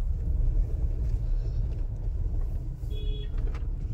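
A car drives along a road in Mussoorie, a steady low engine rumble and road noise recorded from inside, with a brief faint beep near the end and no talking.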